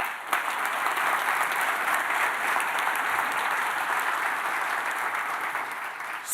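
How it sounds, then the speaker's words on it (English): Audience applause for sponsors at a tech conference keynote, a steady, dense clapping that fills the hall for several seconds, fairly loud with no talk over it. "I'd like a quick round of applause for all of our wonderful sponsors"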